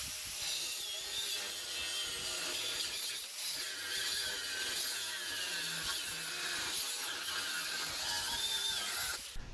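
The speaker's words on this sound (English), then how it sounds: "I'm going to cut it in half with the grinder" An angle grinder slicing through a welded bundle of drill-bit steel, a continuous harsh, high-pitched grinding whine that holds steady and loud for the whole stretch, close up, with no voices.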